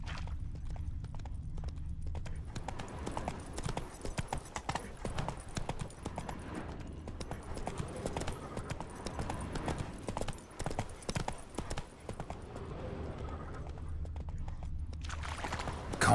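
Roach the horse's hooves clip-clop steadily at a walking pace on the ground in The Witcher 3, close and fairly loud over a low ambient bed, with no one speaking.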